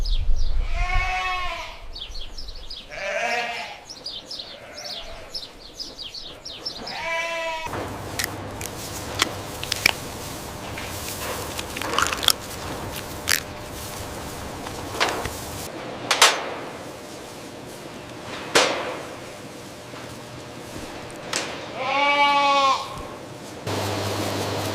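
Goats bleat repeatedly on a commercial goat farm, loud nearby calls in bursts at the start and again near the end, over a steady hum of farm machinery and scattered clatter.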